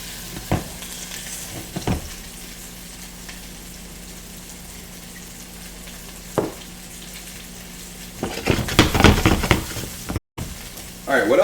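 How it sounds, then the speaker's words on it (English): Chicken sauce sizzling in a hot pan during deglazing, a steady frying hiss throughout with occasional stirring scrapes and a louder burst of sizzle near the end. "Almost my favorite part of the night, the deglaze."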